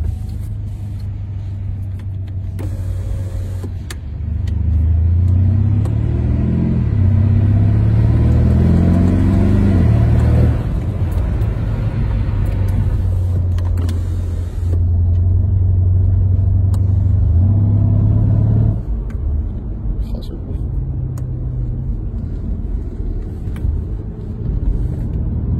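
A Mercedes-AMG E63 S climbs a hill under load, its engine a loud, deep rumble that swells as revs rise and fall through gear changes, heard close and continuous with no talking.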